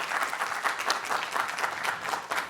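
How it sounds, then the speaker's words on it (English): Audience applause for debate participants at a college dialogue event, a steady, dense wash of clapping hands lasting the whole stretch without pause. "Why don't we give a round of applause for our participants?"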